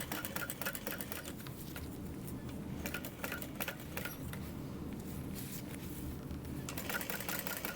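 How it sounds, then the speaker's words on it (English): A sewing machine bastes thin binding along the edge of a bubble bag, a fast, continuous mechanical rattle and hum running steadily throughout, fairly quiet and close. "I'm gonna baste my binding into place 1/8 of an inch along this edge"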